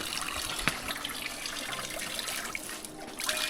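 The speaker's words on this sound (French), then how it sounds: "L'eau de la source." Spring water in Congo flowing steadily, a continuous close trickle and splash that holds at an even level throughout with no voices over it.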